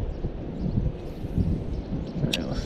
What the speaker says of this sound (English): as I say it, the wind picks up.